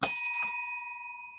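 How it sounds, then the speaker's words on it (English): A single bell strike rings out bright and loud, close up, then fades with a long clean ringing tail; no voices. "So I'm going to give myself a bell."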